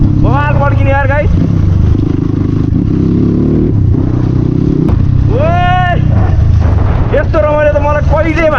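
A CX250R motorcycle with its dB killer removed roars loudly and steadily, its open exhaust rumbling and popping throughout while voices shout and talk over the engine.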